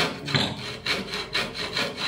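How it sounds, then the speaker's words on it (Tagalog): A hand saw cuts through wood in steady back-and-forth strokes, about five rasping passes close up with a regular rhythm and no talking. "Ito na naman kabila ang lagare."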